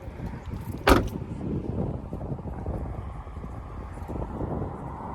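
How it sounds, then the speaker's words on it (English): A single sharp thud of a 2022 Camaro door being shut outdoors, close and punchy, followed by muffled wind and low ambient rumble. "Close the door."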